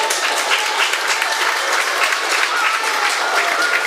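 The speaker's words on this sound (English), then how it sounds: "Always garners applause from the spectators." Steady, dense applause from spectators at a St. Kitts and Nevis independence ceremonial parade, continuous clapping from a large outdoor crowd with no gaps.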